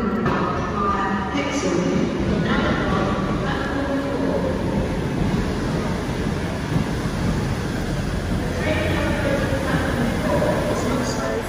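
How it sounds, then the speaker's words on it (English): Loud, echoing train station ambience with a rumbling train and a steady wash of crowd noise and clatter throughout. "Train station, it is loud as hell"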